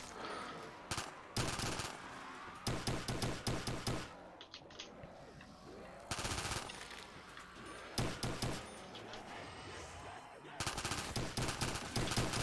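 Bursts of automatic gunfire in a Black Ops 3 Custom Zombies match on the Rijarta map, rapid rattling volleys coming in several separate bursts with short gaps between them, loud and close, with no talk over them.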